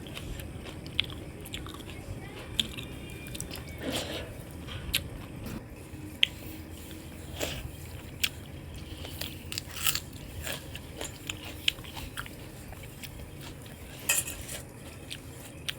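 Small whole onions bitten and crunched one at a time, giving sharp, scattered crisp snaps and chewing close to the mic at a low, quiet level, with faint dish and cutlery clinks in the background.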